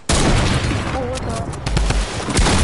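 Sniper rifle shots in an online shooter video game, loud sharp cracks ringing out among other gunfire over a couple of seconds, with a voice speaking briefly in the mix.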